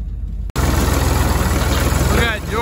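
A tractor engine runs on a farm where old equipment is being cleared, a steady low idling rumble after a brief cut, with a faint squeaking near the end.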